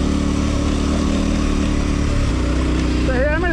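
A 1090 motorcycle being ridden, its engine droning loud and steady up close with rushing wind noise throughout.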